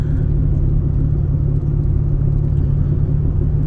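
A 1995 Ford Probe four-cylinder idles or cruises through a cheap aftermarket muffler, giving a steady, deep, loud exhaust drone and rumble with no breaks and no talking.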